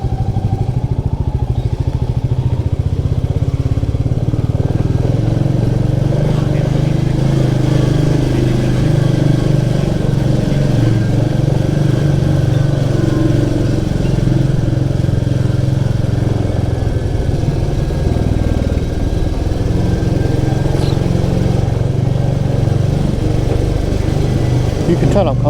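A Royal Enfield Meteor 350 motorcycle rides through a village, its engine droning steadily and loudly throughout with a low rumble and light road clatter.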